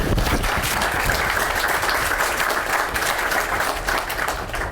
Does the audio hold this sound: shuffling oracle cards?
no